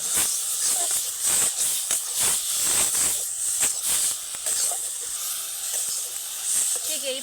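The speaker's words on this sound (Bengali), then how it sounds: "এইবার দিয়ে দেবো পেস্ট করে রাখা আমলকি।" Amla paste sizzles in hot coconut oil over medium-low heat while being gently stirred, a continuous bright hiss punctuated by repeated soft scraping strokes.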